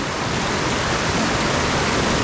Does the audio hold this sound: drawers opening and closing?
no